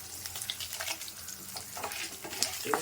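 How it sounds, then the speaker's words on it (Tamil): Garlic cloves and dried red chillies fry in hot oil with a steady, fairly quiet sizzle, broken by a few brighter pops and spoon stirs. "காரத்துக்கு தகுந்த மாதிரி காஞ்சி மிளகாய் போட்டுக்கோங்க."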